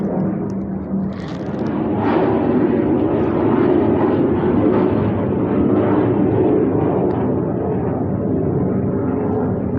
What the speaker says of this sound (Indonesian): Maaf ya ada pesawat lewat jadi kurang kedengaran